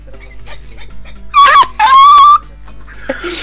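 A dog gives two high, whining yelps close by, heard over faint background voices and room hum.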